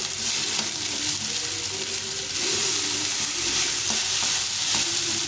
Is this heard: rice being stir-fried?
yes